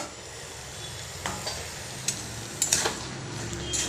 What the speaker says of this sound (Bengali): এবার লঙ্কার গুঁড়ো আর হলুদের গুঁড়ো দিয়ে নাড়তে থাকবো।